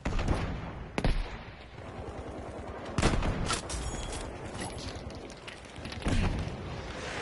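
Battlefield V combat erupts in bursts of gunfire and booming tank shots, with sharp loud blasts near 1, 3 and 6 seconds over continuous rattling fire and rumble.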